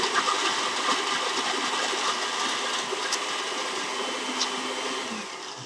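Vitamix blender chopping no-bake cookie ingredients, a steady loud whirring motor roar with grinding texture that holds for several seconds and eases slightly at the end, with no talk.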